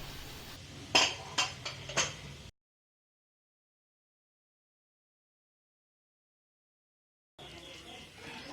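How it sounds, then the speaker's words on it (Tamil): A spoon stirs a fried mixture into cooked rice in a pot, giving a few quick metallic clinks up close. A long stretch of dead silence follows before faint room noise returns. "இந்த வறுத்த கலவையை சாதத்தோட போட்டு கிளறிடலாம்"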